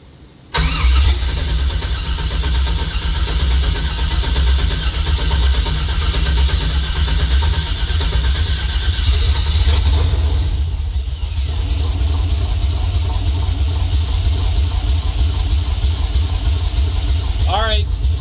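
A 1964 GMC engine cranks and catches, then runs at a loud, rough idle for well over a dozen seconds, a steady rumble with a brief dip partway, while people talk over it.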